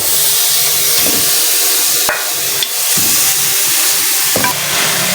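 Steady loud sizzling of mutton frying in a pressure cooker, with occasional stirring scrapes and knocks, no voices.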